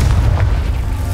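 Confringo, the explosive spell in the Hogwarts Legacy game, bursts as a deep, loud, rumbling blast that sustains through the brief moment, with no talk.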